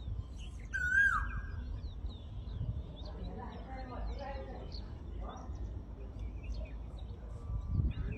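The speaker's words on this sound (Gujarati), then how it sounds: "તમે ખાલી આ કોયલનો અવાજ સાંભળો।" An Asian koel calls outdoors along the way to an office, a single clear whistled note rising over steady background hum and distant traffic-like rumble, with a few fainter bird chirps afterward.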